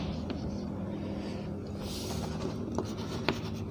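Chalk or marker writing on a classroom board during a chemistry lesson, a steady scratchy stroking with a few sharper taps, close and fairly faint, no voice over it.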